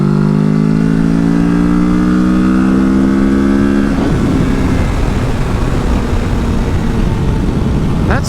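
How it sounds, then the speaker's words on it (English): Kawasaki Ninja 650 motorcycle pulling hard in 4th gear from about 50 mph, its engine note climbing steadily for four seconds before easing off into rushing wind noise. "So we're in 4th gear doing 50. Let's just do a pull from 4th."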